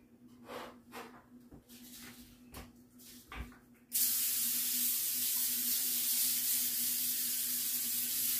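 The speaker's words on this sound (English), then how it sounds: "Okay, so she said you spray the pan. Let me spray this pan." Cooking spray aerosol coating a baking pan in a home kitchen: a few soft knocks and handling sounds, then a loud, continuous close hiss of spray lasting several seconds.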